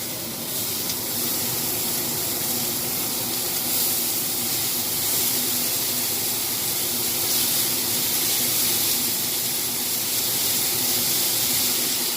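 Small onion pieces dropped into shallow hot oil for burrito filling, giving a steady, loud, bright sizzle and hiss that carries on evenly throughout.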